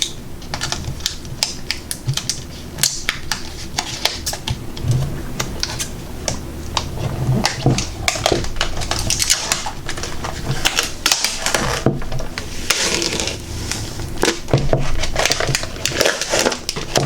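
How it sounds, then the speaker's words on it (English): Contact paper peels off a vinyl record in a close run of dense crackling and tearing, continuous with small sharp snaps throughout. "if I can get the contact paper to start"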